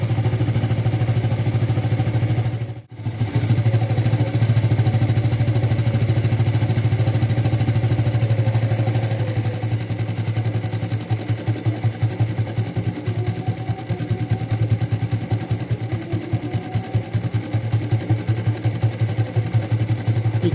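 A warm Yamaha LC135 motorcycle engine runs steadily at idle during timing adjustment, a low continuous rumble with a brief dropout early on and a slightly choppier throb toward the end.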